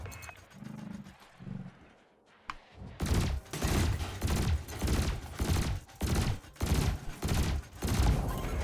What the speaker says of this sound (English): Meanwhile, your laser will fire until the capacitor is depleted